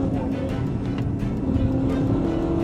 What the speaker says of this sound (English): the Mustang was speeding at over 130 miles per hour, the tires screeching as it swerved through each intersection.